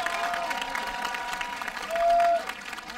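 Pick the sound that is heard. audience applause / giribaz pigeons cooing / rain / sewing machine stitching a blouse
audience applause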